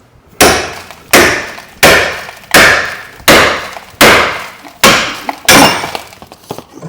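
Eight sharp hammer blows drive a wishbone suspension arm into place on a Rover 75, each loud metallic strike ringing and decaying at a steady pace of roughly one per second.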